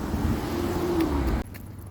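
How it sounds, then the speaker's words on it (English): Cars passing on a busy street during evening traffic, a steady loud roadway rush that cuts off abruptly near the end, leaving a quieter background hum. "It got busy with traffic for a minute there."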